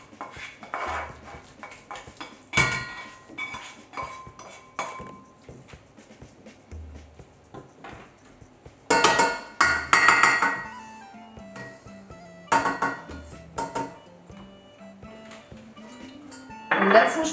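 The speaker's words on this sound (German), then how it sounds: "Und ganz nach Rezept geben wir die Masse jetzt zurück in den Topf." A cooked mixture being returned to a cooking pot, with sharp clinks and scrapes of utensils against metal in scattered bursts, close up, between stretches of near quiet.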